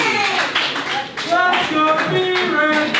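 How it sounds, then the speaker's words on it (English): Wrestling crowd at a live match applauding and cheering for the wrestler B-Red after a near fall, a steady wash of claps and shouting voices with rising whistles and cries, loud and sustained throughout. "The crowd is firing up behind B-Red."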